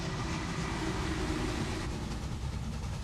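A train rolls along in the railway management game Railway Empire, with its Germany expansion. The rumble is steady and fairly loud and fills the whole stretch without a break.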